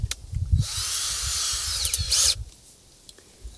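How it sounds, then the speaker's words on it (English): A power drill whines loudly at high speed for about two seconds boring through thick-walled bamboo, its pitch shifting as it bites, between quieter handling knocks before and after. "So I'm going to drill them out."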